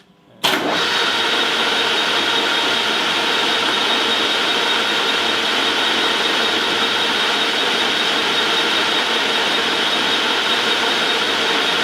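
An Okuma LS lathe spindle starts abruptly and runs at full speed, settling into a loud, steady mechanical whine with a constant hum that holds unchanged to the end.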